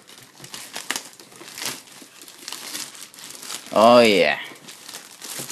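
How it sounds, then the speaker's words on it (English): Crinkling plastic wrapping as a Maketoys MT-03 add-on toy is unwrapped, with rustles under steady talk, then a louder crumpling burst near the middle. "So I'm just going to take it out of its wrapping here."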